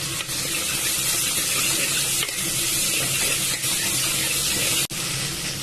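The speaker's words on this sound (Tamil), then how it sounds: "கட் பண்ணி வச்ச தக்காளி நல்லா வதக்கட்டும் கருவேப்பிலை போட்டுக்கலாம்" Tomatoes, curry leaves, chilli and garlic sizzle steadily in a hot pan for bitter gourd and peanut kara kuzhambu, a loud, dense, continuous hiss with no talk.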